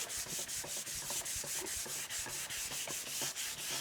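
Soft, freshly applied acrylic paint being sanded on a Flying V guitar body, rhythmic back-and-forth rubbing strokes repeating steadily, close and quiet.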